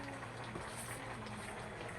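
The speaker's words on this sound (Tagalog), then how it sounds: "Yan, kumukulo-kulo na siya." Steady, quiet bubbling of crab boiling in a pot, a continuous soft churning with no voices.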